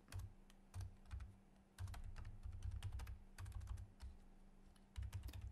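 Menu text is typed on a computer keyboard, a close, quiet run of quick key clicks in short bursts with brief pauses between words.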